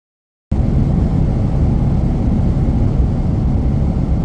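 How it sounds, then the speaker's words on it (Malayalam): Steady, loud low-frequency roar of a Qatar Airways jet airliner's engines in flight from New York to Doha, a constant cabin drone with no variation and no talking. "ന്യൂയോർക്കിൽ നിന്നും ദോഹയിലേക്കുള്ള ഫ്ലൈറ്റ് ടേക്ക് ഓഫ് ചെയ്തിട്ടുണ്ട്."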